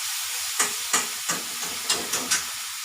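Bread upma roasts in a pan and is stirred in a steady rhythm. A soft continuous sizzle is broken by about six scraping strokes of a spoon, all close up and with no talking.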